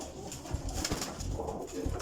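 Soft, low cooing from Teddy pigeons, a few gentle throaty calls repeating close by against a faint background hiss.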